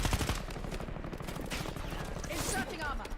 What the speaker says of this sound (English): Bro, I'm just getting shot from anywhere I go.